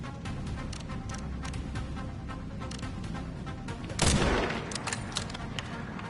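Gunfire from the video game Resident Evil Requiem, with one loud, close shot bursting out midway over a steady bed of game ambience and smaller crackling reports.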